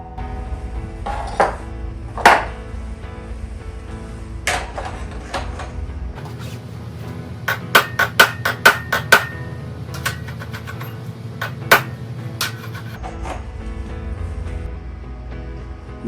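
A hammer swages the raker tooth of a crosscut saw. Sharp, ringing metal strikes come at scattered intervals, with a quick cluster of blows in the middle, over a steady low hum and no talking.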